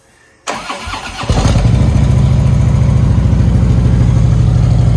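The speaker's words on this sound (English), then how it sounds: "Now that we got that windshield out the way, I guess we can crank this thing up." A wrecked Harley-Davidson motorcycle engine, salvaged from an auction, cranks briefly and then catches, settling into a loud, steady, rumbling idle close by.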